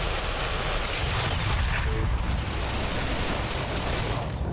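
Shotgun fire in the video game Ghost Recon Phantoms, a dense continuous barrage of gunfire and combat noise that stays loud and steady throughout, with no clear pauses.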